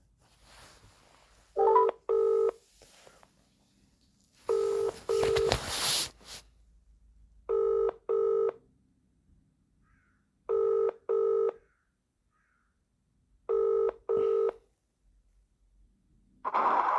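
Telephone call placed on a mobile: a few keypad tones, then repeated paired ringback bursts every three seconds or so, loud and clear against silence, with brief noisy handling sounds early on.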